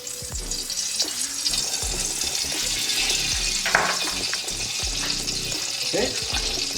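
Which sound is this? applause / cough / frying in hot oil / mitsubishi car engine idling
frying in hot oil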